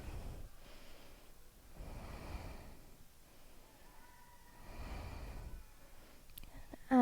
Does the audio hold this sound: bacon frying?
no